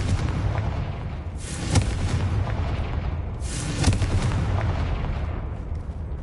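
A Confringo fire spell blasts twice in Hogwarts Legacy, each a loud booming burst over a dense, rumbling game soundscape, with no talk.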